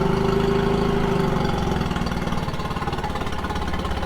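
An engine, being flushed with a water hose, starts and runs with a loud, close, steady chugging idle that settles into an even pulsing rhythm.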